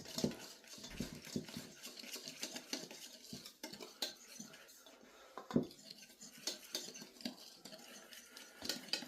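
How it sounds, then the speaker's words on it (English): Sifted dry ingredients for pumpkin bread are whisked in a bowl, producing repeated scraping and clinking strokes against the sides in an uneven rhythm, close and fairly quiet. "So we just want to give that a good mix around so it combines."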